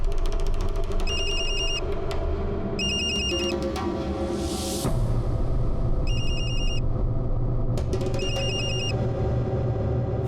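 Repeated electronic telephone ringing in short bursts, four rings spaced across a tense dramatic scene set in a Rajasthan village, layered over steady background music, loud and close.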